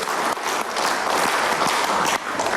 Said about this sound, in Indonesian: Boleh tepuk tangan yang meriah Bapak Ibu.